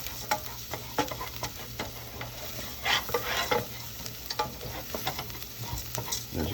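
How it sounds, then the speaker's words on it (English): Rice toasts with garlic in olive oil in a pan, giving a faint crackling sizzle broken by soft stirring scrapes and scattered ticks, quiet and close with no speech. "The rice is toasting quite well."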